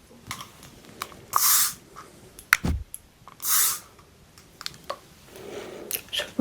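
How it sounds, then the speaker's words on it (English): A spray bottle gives two distinct hissing bursts, each about a quarter second long, close up during an ASMR massage, with soft handling taps and rustles around them. "A little bit of spray."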